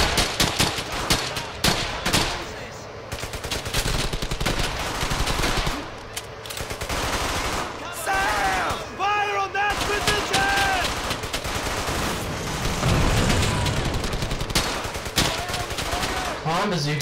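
Dense, continuous gunfire from the World War II video game Brothers in Arms: Hell's Highway, with machine-gun bursts and scattered shots throughout, mixed with battle noise and shouted voices.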